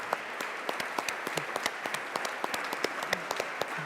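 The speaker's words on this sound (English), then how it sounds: "could you give them a round of applause" An audience at an awards ceremony claps for people on stage, with individual hand claps standing out as sharp, fairly close, irregular pops over a continuous bed of applause.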